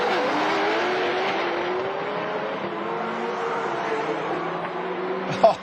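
Time attack race cars accelerating hard side by side in a roll race, engines roaring loud and steady with rising harmonics as they pull through the gears, ending in a sharp brief burst.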